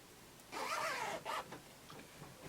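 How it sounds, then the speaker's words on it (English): Invisible zipper on a sewn tapered skirt pulled up in one quick rasping zip lasting about a second, with a short second tug after, close and quiet. "you can pull your zipper"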